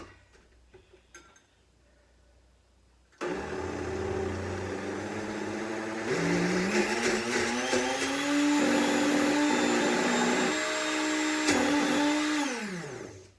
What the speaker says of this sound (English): Now we're going to blend that up.